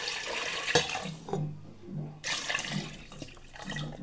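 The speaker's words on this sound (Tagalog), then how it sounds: "Lagyan natin ng tubig." Water pours into a pot for duck adobo, gushing and splashing close by in two bursts with a short pause between them.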